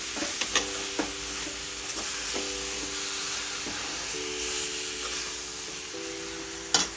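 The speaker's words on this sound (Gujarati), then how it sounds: "હલાવી લઈશું" Thick carrot halwa with cow's ghee is stirred in a pan with soft, regular scraping strokes over a quiet, steady sizzle, ending with a sharp clink.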